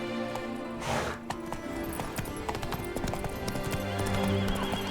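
Roach the horse galloping in The Witcher 3, rapid rhythmic hoofbeats with a loud whinny near the start, steady and close over a faint game ambience.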